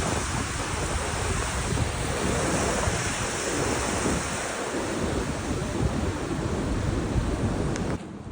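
Puit Creek rushes beneath a trail bridge in the mountains near the Kings Canyon and John Muir Wilderness boundary, a loud, dense, unbroken roar of water with wind buffeting the microphone.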